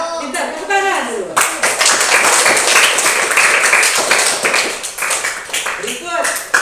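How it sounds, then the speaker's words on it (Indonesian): A classroom of students claps hands together in a dense, sustained burst of applause lasting several seconds, loud and close, with a teacher's voice speaking before and after. "Iya, pintar, tepuk tangan dulu."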